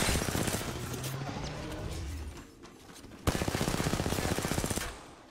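Rapid automatic gunfire in a video game crackles in dense bursts, pausing briefly before a sharp resumption, fairly close and loud, with no voices over it.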